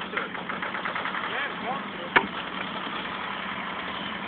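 Tractor engine running steadily at mid pitch with a low rumble beneath, a single sharp knock or clank cutting in midway, and people talking over it.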